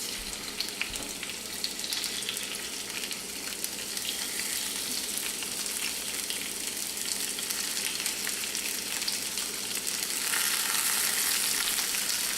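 Shrimp and garlic frying in a pan give a steady, close broadband sizzle that holds evenly for the whole stretch and grows slightly louder near the end, with no talking over it.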